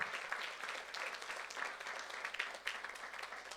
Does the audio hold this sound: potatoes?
no